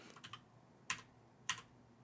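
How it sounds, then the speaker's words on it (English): Keystrokes on a computer keyboard, a few quick soft clicks followed by two sharper isolated taps, close and quiet with no voices. "You can start typing in."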